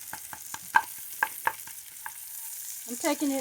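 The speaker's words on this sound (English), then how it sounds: "I see my butter's turning a little bit brown because my heat's too high." Butter browning and sizzling in a pan over high heat on a gas grill, with a steady low fry hiss punctuated by several sharp clinks and scrapes of a utensil stirring against the pan, no voice.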